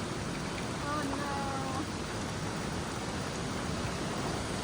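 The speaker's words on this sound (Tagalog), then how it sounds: "Biglang ulan at biglang pasok sa loob." Steady, dense wash of sudden heavy rain at a campground, filling the whole clip, loud and broadband, with no pauses or voices.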